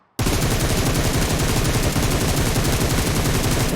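Rapid automatic gunfire in PUBG Mobile, a dense, unbroken burst of loud shots that starts abruptly after a brief silence and rattles on steadily to the end.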